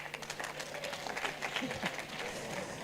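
A comedy show audience applauds steadily with dense clapping and some crowd murmur, loud and continuous throughout with no break.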